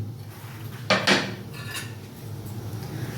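Puli pitha dumplings are stirred in milk in a metal pot, with a couple of close, ringing scrapes and clanks of the spoon against the pot over a low background hum.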